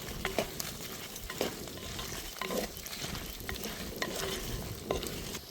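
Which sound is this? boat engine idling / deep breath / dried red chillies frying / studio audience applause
dried red chillies frying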